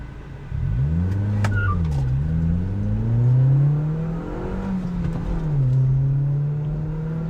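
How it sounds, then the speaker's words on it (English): A 2012 Kia Forte Koup accelerates hard up through the gears to third, the engine note rising, dropping briefly at each shift, then climbing again, loud and close with no talking. "I'm gonna go ahead and show you what type of speed it's packing."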